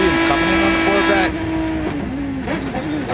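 A Corvette race car in a 2006 American Le Mans Series sports car race at Road America lets out a loud, rising and falling engine howl as it comes in, with race commentators talking over it.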